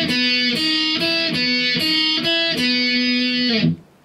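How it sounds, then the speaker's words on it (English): Electric guitar plays a chorus (guitar one part) with distorted chords struck in repeated rhythmic bursts, loud and close, ending abruptly. "Okay, that's the chorus for guitar one."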